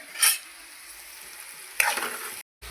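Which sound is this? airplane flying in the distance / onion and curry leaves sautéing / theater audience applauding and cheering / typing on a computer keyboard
onion and curry leaves sautéing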